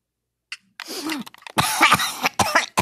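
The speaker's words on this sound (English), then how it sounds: "Had a cough there." A person coughs close to the microphone during a gaming stream: a short initial burst, then several harsh, loud coughs in quick succession.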